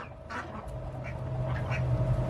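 A flock of ducks quacks in a steady, overlapping chorus during a poultry round-up, the calls moderately close over a constant low hum.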